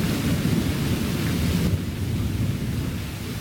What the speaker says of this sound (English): And yes, that's thunder in the background.